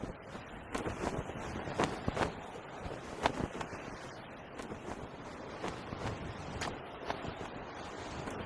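Gusty desert wind buffets the microphone in Quartzsite, with irregular low rumbles and thumps over a constant background rush.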